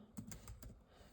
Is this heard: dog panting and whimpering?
no